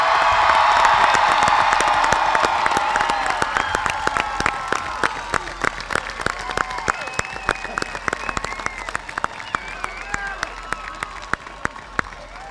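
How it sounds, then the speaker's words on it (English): A high school graduation crowd of the class of 2025 applauds and cheers loudly, a dense wash of clapping and shouts that slowly thins to scattered claps. "Let's give a round of applause."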